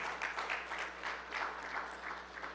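A congregation at a Christmas sermon gives applause to the King, a soft, distant patter of clapping that swells and eases in small waves over a low steady hum.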